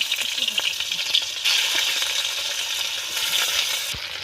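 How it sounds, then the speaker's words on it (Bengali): Onions and green chillies sizzle in hot oil in a wok while cooking a soybean curry, a steady close frying hiss with occasional scraping stirs and a brief clink. "এবার কড়াইতে পেঁয়াজ আর কাঁচা লঙ্কা দিয়ে দেবো"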